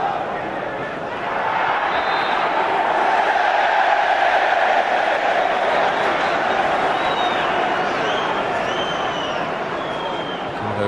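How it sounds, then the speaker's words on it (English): Football crowd at Goodison Park during Everton versus Chelsea, a broad sustained roar of ironic cheering rising after the first second and holding steady and loud, with a commentator's voice over it. "Ironic cheers there from the Goodison crowd"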